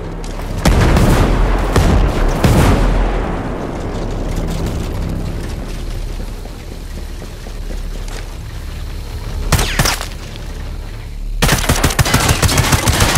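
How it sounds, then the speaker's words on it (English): Mortar explosions and gunfire in a war video game, heavy booming blasts and rapid shots at the start, a long rumbling decay, then renewed loud bursts near the end. "Mortars coming in hot!"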